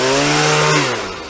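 A petrol leaf blower close by, blowing bark in a garden bed, a loud steady engine whine with a strong buzzing pitch that drops slightly as it eases off near the end.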